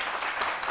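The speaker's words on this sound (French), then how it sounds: "puis vous applaudissez" Audience applause on a French-language Ivorian midday TV show, a short steady wash of clapping throughout.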